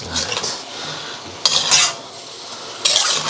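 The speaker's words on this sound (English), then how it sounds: "all we're doing is putting the noodles in, and the sauce will be boiling them to heat them up" Noodles are stirred into boiling chow mein sauce in a pan, utensils scraping and clattering against the metal in a few bright bursts over a low simmering sizzle.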